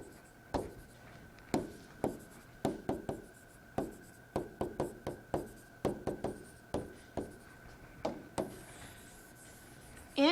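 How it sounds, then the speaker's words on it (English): A pen writes out a vector equation by hand on paper, producing close, soft scratchy strokes and taps in irregular bursts separated by short pauses, over a faint steady hum. "Let me write this out for a second."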